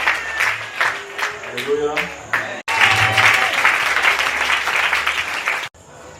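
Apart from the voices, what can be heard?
congregation applauding to acclaim the Lord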